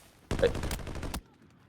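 Automatic gunfire in the video game Arena Breakout: Infinite, a loud close burst of rapid shots lasting about a second, then quiet.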